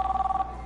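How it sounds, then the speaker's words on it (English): An old-style telephone bell rings out in the video game Knee Deep, a steady ringing trill carrying on for the brief moment alone. "Until the phone rang."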